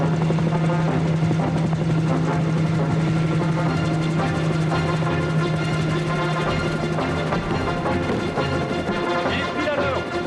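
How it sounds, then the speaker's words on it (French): A helicopter flies overhead in a cartoon scene, its loud steady rotor drone filling the whole stretch with a strong low hum and continuous broadband whir, with no talking over it. "Voilà l'hélico!"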